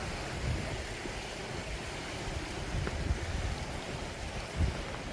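A rocky mountain stream flows near Scale Force waterfall, giving a steady, close hiss and rush of water with no voices over it.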